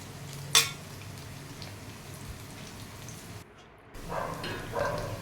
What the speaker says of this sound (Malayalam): അപ്പോൾ നമ്മളുടെ ചിക്കൻ പീസസ് ഒരുവിധം ഇവിടെ ഫ്രൈ ആയിട്ടുണ്ട്.